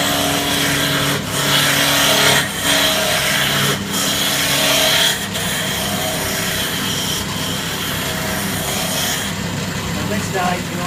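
A woodturning gouge cuts timber on a spinning lathe with a continuous rough scraping and rumbling, interrupted by a few brief pauses. A voice speaks over it.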